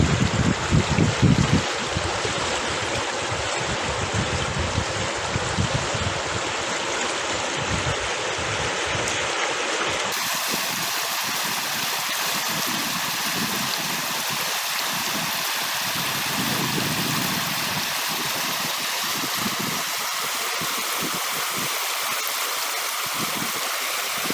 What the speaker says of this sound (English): sound of the river is amazing.